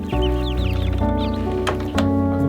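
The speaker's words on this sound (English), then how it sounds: "I'm gonna put the little chicks inside." Little chicks on a farm give small high peeps and cheeps over lower, louder clucking from an adult hen, continuous and close, with a couple of sharp knocks.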